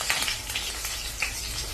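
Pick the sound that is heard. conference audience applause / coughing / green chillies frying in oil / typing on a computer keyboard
green chillies frying in oil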